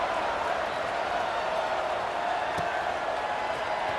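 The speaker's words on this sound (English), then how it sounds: "this crowd is buzzing after that last score" Stadium crowd at a college football game between Missouri and Nebraska makes a steady, distant buzzing murmur, continuous and even throughout with no distinct cheers.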